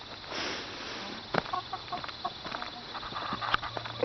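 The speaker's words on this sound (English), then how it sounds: "Birds are doing okay." Backyard homestead chickens cluck in a scattered, irregular rhythm, fairly close, amid steady outdoor background noise with no talking.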